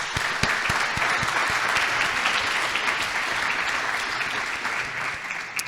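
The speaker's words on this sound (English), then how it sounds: "So if we can all give them a big round of applause." A steady round of audience applause for county election candidates at a municipal election forum, dense clapping that holds evenly throughout, with a few sharper claps near the start.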